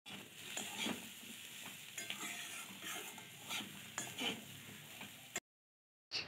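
Chopped jackfruit and fried potatoes are stirred together in a pan, soft scraping and light sizzling with scattered utensil clicks, fairly quiet and close, ending in a brief silence; no talking.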